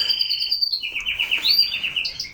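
Pet birds give high, thin chirps and tweets close by near a breeding pair sitting on three eggs, in short bright bursts with no talk.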